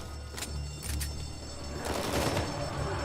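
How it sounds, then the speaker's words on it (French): Gunfire in the video game Uncharted 4: a few sharp shots early on, then a denser burst of firing later in the clip over a steady low game-soundtrack drone. "je tire dans le vide"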